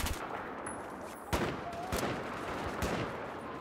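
Bursts of AS Val rifle fire in Battlefield 4 on Noshahr Canals, sharp cracks and scattered shots over dense battle noise, steady and moderately loud throughout.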